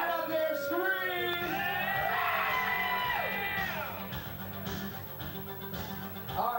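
A crowd of women in a hotel venue screams, whoops and cheers loudly and continuously at a lingerie show, with high yells layered over the din and some talking mixed in.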